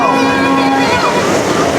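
A motorboat moves across the open sea, engine droning under rushing wind and splashing waves, with a steady tone fading partway through.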